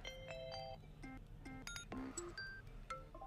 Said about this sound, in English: Here it's all about the ringtone.